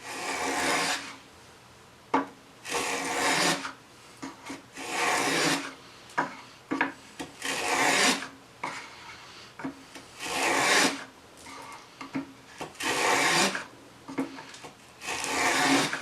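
A hand plane with a fence cuts a quarter-inch-deep groove in wood, taking light passes: a series of separate rasping strokes, each a second or so long with short pauses between, close and clear with no speech.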